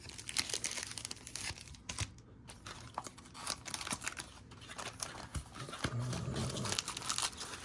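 A Bowman Chrome University basketball card pack wrapper is torn open and crinkled up close, with irregular crackling rustles and tearing bursts and a brief quiet pause partway through.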